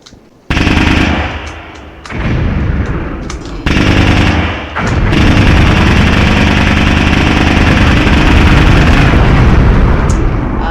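Loud, relentless Minecraft combat with the Clockwork mod during a plane bombing run: rapid automatic gunfire and heavy booming explosions, with brief drops before the barrage resumes and keeps roaring.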